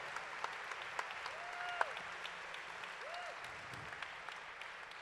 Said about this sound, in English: another round of applause for this